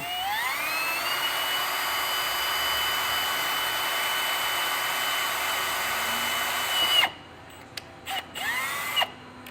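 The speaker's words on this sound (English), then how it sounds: "So we're gonna use a 3/16 drill bit." A power drill with a 3/16 drill bit boring holes while fitting billet hood latches, a loud sustained whine for about seven seconds, then silence broken by a few short bursts of the drill.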